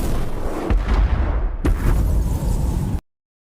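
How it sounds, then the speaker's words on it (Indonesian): Meteors fall and explode over a city in a film, two sharp booming impacts about a second apart over a dense rumbling roar that cuts off abruptly into silence. "tiba-tiba langit dipenuhi oleh meteor yang berjatuhan"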